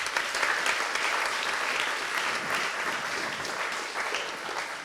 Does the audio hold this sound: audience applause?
yes